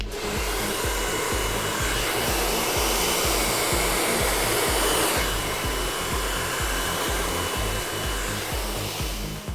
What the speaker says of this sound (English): with the hairdryer in the downward position, blast all the way through the mid-lengths and the ends